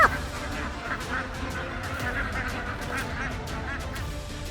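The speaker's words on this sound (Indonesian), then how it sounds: "ini dia yang namanya itik alabio" Alabio ducks, a duck native to South Kalimantan, quacking and honking in a group: repeated rapid quacks in an uneven rhythm over a continuous low background, moderately close but fairly quiet.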